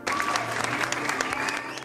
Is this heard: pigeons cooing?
no